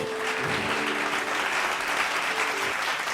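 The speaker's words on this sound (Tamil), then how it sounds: "கைத்தட்டுங்க" A congregation at a Bible study claps steadily for a few seconds, a dense, even burst of applause.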